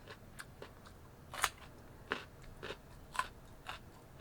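Raw carrot being bitten and chewed close up, with a few sharp crunches spaced about a second apart over a quiet background and no talking.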